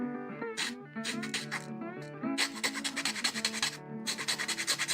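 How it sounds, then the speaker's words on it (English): Small plastic parts from a 1/60 scale model kit are filed firmly, rapid rasping strokes repeating over steady tonal background music. "Not so gentle filing here."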